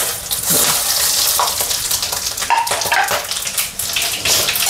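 Whole spices hit hot oil in a pan while cooking chicken, giving a loud, steady broadband sizzle and crackle throughout, with no voices.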